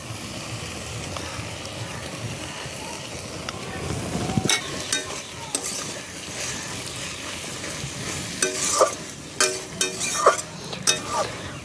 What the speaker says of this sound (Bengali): শাপলা, চিংড়ি মাছ আর কাঁচা লঙ্কা সর্ষে বাটা বেশ ভালো করে কষে নেব